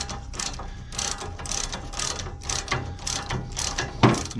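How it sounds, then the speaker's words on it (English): A ratchet tightens a nut on the brake actuator rod of a 1930 Ford Model A, giving a quick series of close, crisp clicking strokes in a steady rhythm, with a slightly louder clunk near the end. "we can get that nut on and get that all tightened up"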